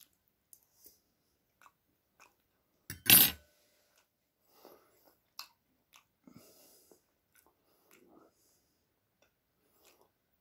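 Soft chewing and biting while someone tastes cooked beet tails from a garden, with one louder crunchy burst followed by scattered quiet mouth clicks and pauses, close and intimate.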